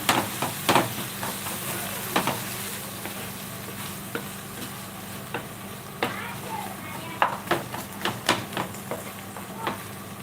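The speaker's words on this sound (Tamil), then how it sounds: "உப்பு போட்டுட்டு நல்லா மிக்ஸ் பண்ணி விடுங்க" Salted chicken salna stirred in a pan: a spoon scrapes and clinks in repeated irregular strokes over a soft, steady frying sizzle, close and fairly quiet.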